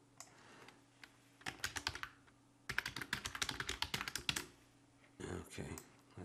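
Bursts of fast typing on a computer keyboard, crisp close key clicks in uneven rhythmic runs separated by short pauses.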